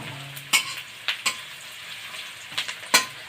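Onions frying in a pan for masala butter okra: a steady low sizzle broken by several sharp scraping stirs of a spatula, close and clear with no talk.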